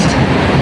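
Loud, close rumble of an MRT train on the elevated line by a highway, a brief dense roar of rolling wheels with no talking.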